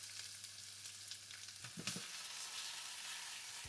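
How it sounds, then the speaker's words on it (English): Onion frying in olive oil in a pan over medium heat, a steady close sizzle that runs throughout, with a brief stirring clatter partway through and a low hum fading out early on. "Pan on medium heat, olive oil and onion."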